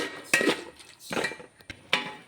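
A spoon stirs a lemon pickle mixture in a pot, giving four or five sharp metallic clinks and scrapes spaced irregularly, close and clear with no talking.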